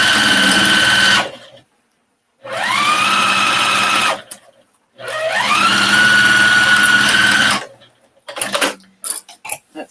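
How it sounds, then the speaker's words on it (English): A sewing machine runs a 1/4 inch seam with back stitching on a fabric shopping bag: three loud, steady motor bursts separated by pauses, the middle run the longest, ending in a few short stuttering pulses. No one speaks. "let's take this and sew it. 1/4 inch. Back stitching."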